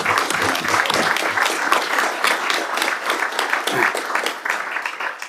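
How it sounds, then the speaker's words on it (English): Council members give a round of applause in a county council meeting, a steady patter of moderate clapping from a modest group lasting several seconds. "we should give all the team a round of applause"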